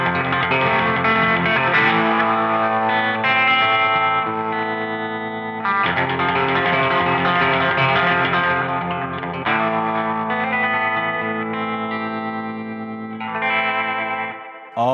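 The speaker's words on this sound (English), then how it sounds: "sometimes it's nice to slow down that tremolo so you lose that sense of choppiness" Electric guitar with a slow tremolo, its rate set by a foot-turned spinner for a spaghetti western tone: sustained, shimmering chords that swell and change every few seconds, close and loud, with no talking.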